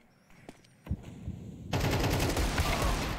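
Desert Eagle pistol fire in a Counter-Strike esports match, OG against Fnatic: a couple of sharp isolated shots early, then a dense burst of rapid gunfire filling the final second and a half.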